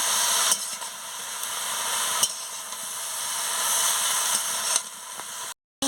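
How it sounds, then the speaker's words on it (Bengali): Potatoes and pointed gourd sautéing in a pan, giving a steady broadband sizzle with a few brief louder scrapes or stirs, close and continuous, no talking. "আমি আলু আর কুঁদরিটাকে দিয়ে দিচ্ছি, দিয়ে ভালো করে আমি কষিয়ে নিচ্ছি"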